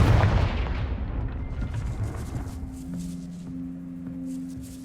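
A Confringo fire spell blasts in Hogwarts Legacy, a loud booming burst up front that rumbles and decays over several seconds, leaving a steady low magical hum and faint airy shimmer afterward.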